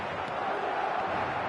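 A stadium crowd in the eFootball video game gives off a dense, steady roar for a brief moment, a broad wash of massed voices with no clear individual sounds.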